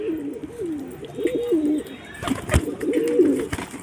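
A pigeon coos in repeated low rolling phrases, close and fairly clear, with a brief sharp knock midway and no talking.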